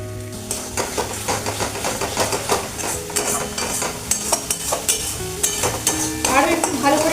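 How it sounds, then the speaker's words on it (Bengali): Eggs and garlic cook in oil for a Bengali kasha, with steady sizzling and frying under repeated scraping strokes of a spoon stirring the pan, close and continuous without talk. "আরো একটু ভালো করে কষানো হবে।"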